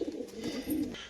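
A Giribaz tumbler pigeon gives a short, low throaty coo, close by, with soft murmuring pulses over about a second.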